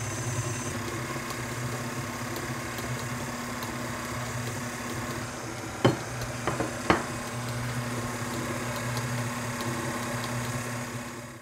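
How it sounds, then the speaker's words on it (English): Electric mixer whirring steadily through Oreo cake batter with eggs and milk, a continuous close motor hum with a few brief clatters midway. "the mixer, my goodness, the mixer is on"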